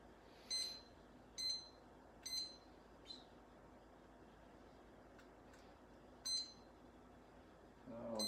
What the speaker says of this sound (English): when the buzzer goes off, we'll be ready